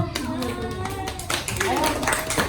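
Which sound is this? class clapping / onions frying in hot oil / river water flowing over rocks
class clapping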